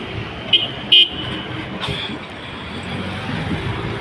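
A car passes on a street in Bahrain near a building site, a broad rumble of road traffic with two short horn toots early on, heard from the roadside.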